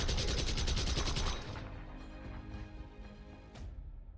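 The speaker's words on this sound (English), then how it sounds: "He gives the MiG a 20mm lead and opens up his four cannons." Four 20mm cannons on a Corsair fighter fire a sustained, dense burst at a MiG-15, a loud rapid roar that cuts off after about a second and a half, leaving a rumbling tail and a later sharp crack.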